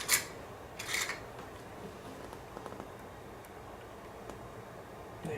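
A Sargent challenge lock is picked with a tension wrench, giving faint metallic scratches and tiny ticks close up, with a couple of louder rubbing scrapes at the start.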